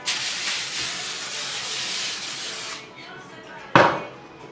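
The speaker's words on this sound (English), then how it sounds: "So I already prepared the baking pan. You just spray it up." A steady hiss of cooking spray onto a baking pan runs for nearly three seconds, close and fairly loud, then stops; a brief sharp burst follows a moment later.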